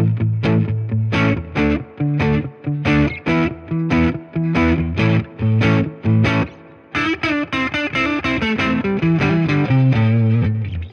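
Crunchy Tube Screamer overdrive on electric guitar plays rhythmic chords and riffs, loud and bright, with short gaps between strummed bursts and no voices.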